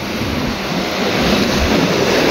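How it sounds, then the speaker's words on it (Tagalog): Strong ocean waves at a public beach in Basay, a loud continuous roar of surf with rushing wind noise, steady and building slightly throughout. "Kaso natatakot ako sa mga alon, no."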